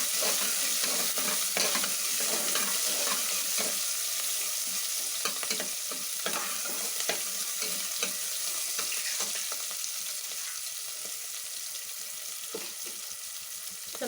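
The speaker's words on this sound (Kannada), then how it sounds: "ಸ್ವಲ್ಪ ಹಾಗೆ ಫ್ರೈ ಆಗಲಿ ಅದು." Onions frying in a pan for sambar, a continuous dense sizzle with occasional stirring clicks, steady and close throughout with no talking.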